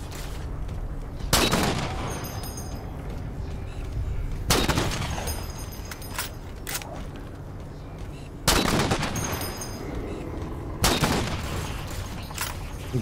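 Sniper rifle fire in Halo 4: four loud, sharp shots spaced a few seconds apart, each with a booming tail, over a steady game background.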